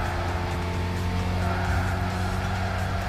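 Tires squeal steadily under hard braking on a Gran Turismo 6 race car, with a loud engine drone running continuously underneath and no talking.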